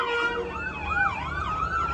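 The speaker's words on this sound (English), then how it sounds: "Ambulance." An ambulance siren wails loudly and steadily, its pitch sweeping up and down in a repeating cycle over road traffic rumble, with no voices.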